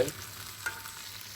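Bangda fish fries in hot oil in a home kitchen, a soft, steady sizzle with a faint stirring clink, fairly quiet and without talk.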